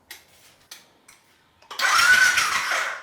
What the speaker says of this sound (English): get a bit of oil pressure before I fire it up. Well, don't start for some reason.